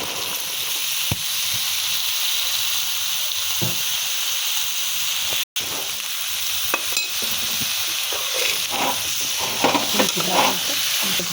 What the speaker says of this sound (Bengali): আমি কেটে রাখা সবজিগুলো সব দিয়ে দিচ্ছি।